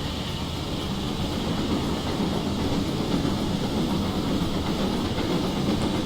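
A GWR Castle steam locomotive in Train Simulator 2016 runs with a steady, dense rumble and hiss. It is constant and loud throughout, with faint rhythmic rail clatter underneath.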